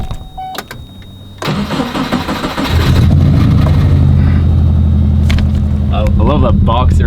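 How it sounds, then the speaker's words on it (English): A Subaru race car's boxer engine cranks, catches at about three seconds and settles into a loud, steady, burbling idle close by, with brief voices over it near the end. "I love that boxer engine noise."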